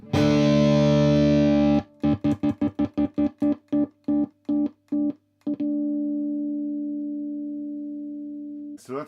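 A 1974 Greco EG600 Les Paul Custom electric guitar on its bridge pickup, a sustained distorted chord chopped into rapid on-off stutters by a kill switch, then a long ringing note fading, loud and without talk.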